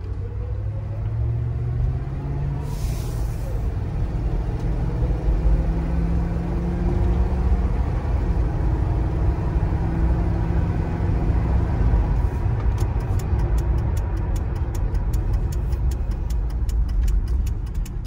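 A Crown Victoria police pit maneuver training car runs steadily, its engine giving a continuous low rumble that stays fairly loud and constant throughout, with no talking.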